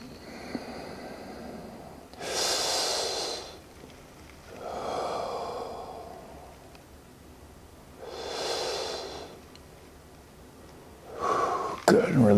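Deep yoga breaths during a recovery session for cyclists and runners: three slow, broad inhale-exhale cycles rising and falling at a steady rhythm, close and fairly soft, with a brief louder rustle at the end.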